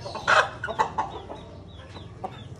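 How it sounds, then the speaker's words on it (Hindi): A black hen clucks in short, scattered bursts, with a louder squawk near the start, close by in a farmyard setting with low background noise. "ये भी काली मुर्गी, काली मुर्गी, काली मुर्गी।"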